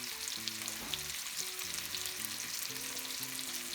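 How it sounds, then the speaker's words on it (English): A brined ribeye pork chop sears in a pan with a strong, steady sizzle, while soft background music plays underneath. "Just lay it right in the pan and let it sear away."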